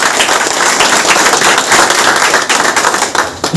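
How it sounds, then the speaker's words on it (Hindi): An audience at a felicitation ceremony breaks into loud, dense clapping that carries on steadily throughout and thins slightly toward the end. "सर, जोरदार ताली बजाओ"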